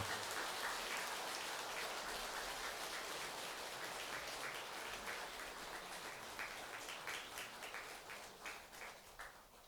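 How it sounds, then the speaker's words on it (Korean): Steady crowd applause at a Buddhist dharma ceremony at the International Seon Center in Korea, dense and continuous, holding at a constant level throughout before thinning slightly toward the end. "대중들께서는 큰 박수로 격려해 주시기 바랍니다."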